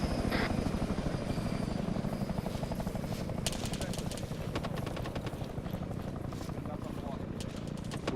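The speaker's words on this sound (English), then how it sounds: "We've got an enemy helo, get your AA guys ready on it" An enemy helicopter in Arma 3 flies overhead with a steady, rapid rotor chop that stays loud and constant, with voices talking over it.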